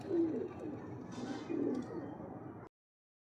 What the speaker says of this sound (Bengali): খুব সুন্দর পায়রা নাম্বার ওয়ান কোয়ালিটি আন্ধ্রা পায়রা